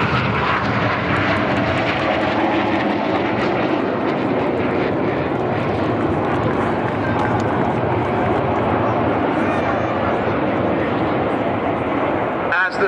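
Red Arrows synchro pair jets turning away at 6G at a seaside air show: a loud, continuous roaring jet noise that fills the whole stretch, with a commentator talking over it.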